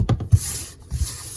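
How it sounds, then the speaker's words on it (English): Score marks on paper being burnished for a handbag, short close rubbing strokes with a few soft thumps, a quick scraping rhythm lasting just over a second. "now I'm going to burnish the other way as well"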